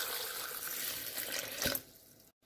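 Chilled water from the fridge pours into a blender for green mango juice, a close, steady splashing stream that grows briefly stronger, then tapers off and stops near the end.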